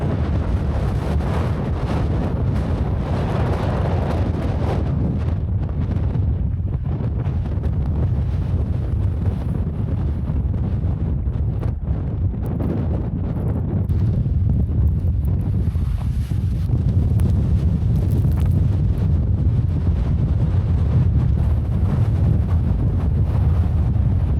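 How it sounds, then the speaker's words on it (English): Strong desert wind blows among the dusty Bentonite Hills of Capitol Reef, buffeting the microphone with a continuous loud roar and rumble that rises and falls in gusts, and no one speaks. "It's dusty out here. A lot of wind and a lot of dust kicking up."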